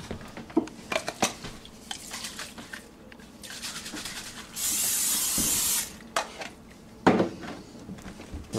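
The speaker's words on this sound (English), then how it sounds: "Now we want to spray the pan with Pam." A single sustained hiss of Pam cooking spray onto a pan lasting about a second, surrounded by clinks and light kitchen handling sounds.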